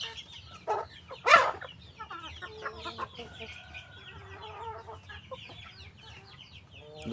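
Backyard pet chickens cluck and chatter close by, with one louder squawk early on and a steady low murmur of farm background throughout.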